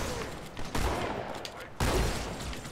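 Enemy gunfire in the Halo 2 video game comes as dense bursts of rapid shots that fill the clip, with two sharp loud onsets partway through and a constant crackling game ambience underneath.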